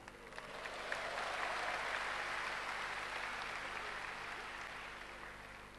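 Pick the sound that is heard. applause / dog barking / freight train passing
applause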